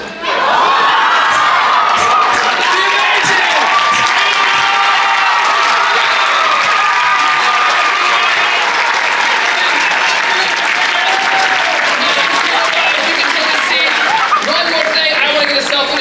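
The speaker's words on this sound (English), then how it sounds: "give her a big standing ovation at the end if this works" Loud, sustained applause with cheering and whoops from a large crowd, continuous throughout with shouting voices mixed in.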